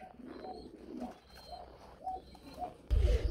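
A pair of big Rasgulla pigeons coo in repeated soft, rolling calls at close range, ending in a sudden loud rustle or thump.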